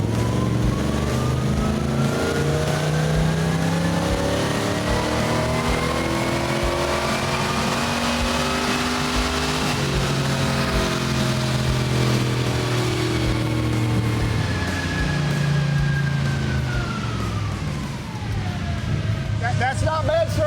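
An AMC Javelin muscle car revs hard through a new set of side pipes, likely on a dyno, loud exhaust roar climbing and falling through several long pulls, close and dominant.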